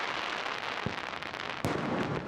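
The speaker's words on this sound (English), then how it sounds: "Explosions in the sky this 4th of July." Distant Fourth of July fireworks in San Diego crackle and pop, with a couple of sharper bursts standing out over a faint continuous rumble.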